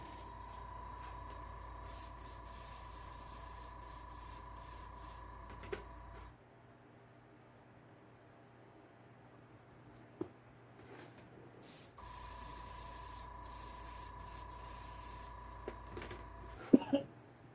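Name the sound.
air compressor running and airbrush spraying model paint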